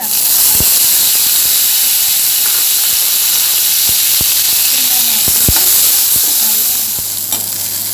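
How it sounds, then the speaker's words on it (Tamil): Shallots frying in oil in a pan hiss and sizzle loudly and steadily, broken by scattered sharp spatula clicks against the pan; the sizzle eases slightly near the end. "அதுவும் பொரியட்டும். சின்ன வெங்காயத்தில்"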